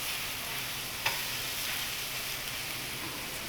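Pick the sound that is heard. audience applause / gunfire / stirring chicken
stirring chicken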